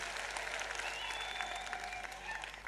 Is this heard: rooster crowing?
no